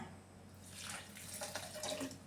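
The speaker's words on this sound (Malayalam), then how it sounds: "ഇതിന് 1/2 കപ്പ് വെള്ളം കൂടെ ഞാൻ ഒഴിക്കുകയാണ്." Water pours in a short, steady splashing stream into a mixer grinder jar, rising slightly in fullness as it fills.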